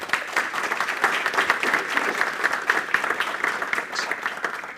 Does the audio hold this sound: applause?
yes